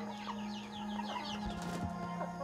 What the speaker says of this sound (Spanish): Hoy Eka se gana la vida con las gallinas que alberga en un gallinero improvisado